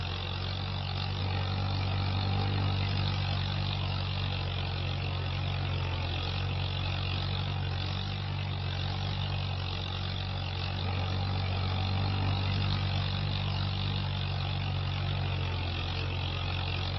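A farm tractor engine runs steadily while drilling winter crops, a continuous low droning hum and rumble at constant level for the whole stretch, with no voices.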